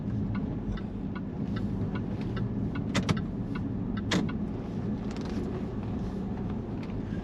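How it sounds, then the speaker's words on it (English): A Jaguar XF S (X250) rounds a roundabout, its road and engine noise a steady, smooth cabin drone heard from inside, with a few faint clicks and rattles and no talking. "the car moved smoothly."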